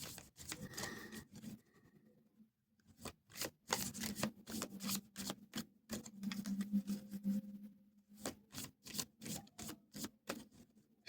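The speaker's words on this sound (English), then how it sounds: "Let's pull a couple more cards here." Playing cards are pulled and shuffled in quick bursts of crisp, riffling flicks and snaps, close and fairly quiet, with short pauses between handfuls.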